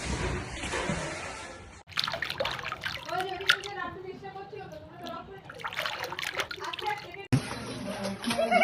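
People wade in and bathe, sending up splashing and trickling water close by, while voices chatter and call out over it throughout.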